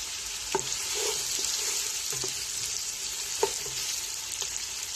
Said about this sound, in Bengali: পেঁয়াজটা একটু ভাজতে হবে প্রথমে। আমি একটু ভেজে নিচ্ছি পেঁয়াজটা।